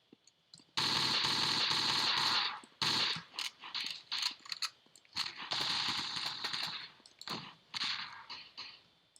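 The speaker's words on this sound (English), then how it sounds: "Fairly heavy resistance right now. Pretty powerful shotgun." Heavy shotgun fire in the video game Marathon: Squadron, loud repeated blasts in dense clusters with short gaps, no voices.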